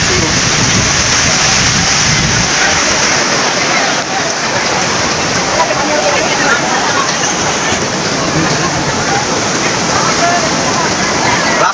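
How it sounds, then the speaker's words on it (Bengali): Sea waves at Kuakata beach roar as a loud, continuous wash of surf close by, with a voice talking over it. "সমুদ্রে ঢেউ পায়ে প্রচুর ঢেউ সমুদ্রে আপনারা দেখতে পাচ্ছেন"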